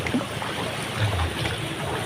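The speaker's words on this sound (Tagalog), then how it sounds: "Lakas ng alon, guys." Strong sea waves at Dagupan slosh and surge against a small boat, a loud continuous rushing wash of water with no pause.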